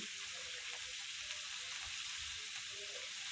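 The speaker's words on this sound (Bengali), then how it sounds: "এই তেলে আমি ফুলকপি তারপর পুরো ভালো করে লবণ হলুদে ভেজে নেব" A whole cauliflower seasoned with salt and turmeric fries in hot oil, giving a soft, steady hiss with faint crackles, low in level and continuous throughout, with no voices.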